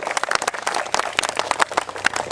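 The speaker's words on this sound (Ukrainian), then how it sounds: "Привітаємо його аплодисментами" Applause at a school Olympic running day for a runner who placed second, a short burst of scattered, uneven hand clapping from a small group, fairly close.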